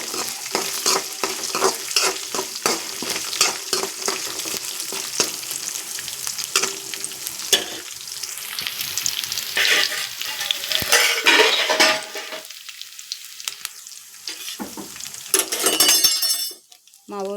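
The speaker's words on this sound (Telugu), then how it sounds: "వేసినాక కరివేపాకు వేసుకుంటానండి. అవి వేగినాయండి." Curry leaves and green chillies frying in a pan for lemon rice, with crackling sizzle and clinking stirring against the pan while someone talks over it.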